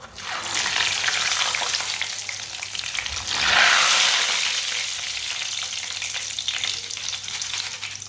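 Crispy namkeen dal sizzles and fries in hot oil in a pan, giving a steady, close hiss that swells briefly midway before settling back to a constant crackle.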